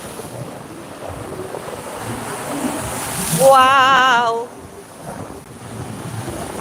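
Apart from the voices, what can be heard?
sea waves crashing strongly on the shore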